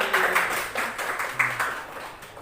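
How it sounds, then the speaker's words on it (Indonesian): A class of pupils clapping for a classmate named Yanti in a school classroom, a short burst of brisk, uneven applause from several pairs of hands, close and fading after a couple of seconds. "Tepuk tangan pada Yanti"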